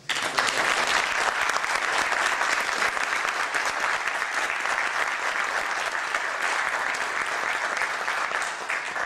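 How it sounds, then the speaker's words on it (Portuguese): An audience at an IBM Smart Cities conference gives a loud, sustained round of applause, a thick, even roar of many hands that lasts for about nine seconds without pause. "vamos dar uma salva de palmas, mas agora vai ter que ser muita força"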